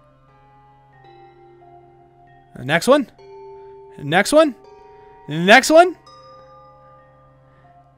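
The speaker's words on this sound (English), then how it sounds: "Let's go whack bells and see what happens." Bells are struck in the video game Sisyphus Reborn, and each steady ringing tone is followed by another at a new pitch. A person talks briefly over them three times.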